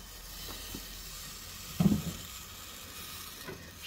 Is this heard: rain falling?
no